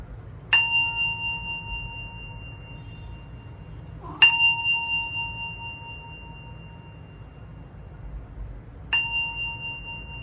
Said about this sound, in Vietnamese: Rồi giờ sẽ đánh 3 hồi chuông cho mọi người chọn nhé.